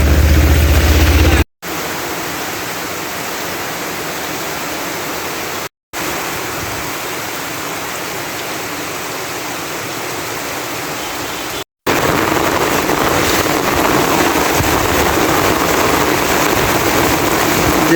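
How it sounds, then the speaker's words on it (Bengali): Heavy rain pours down in Dhobaura as a loud, steady broadband roar, broken by a few abrupt cuts. "প্রচুর পরিমাণে বৃষ্টি হইতেছে"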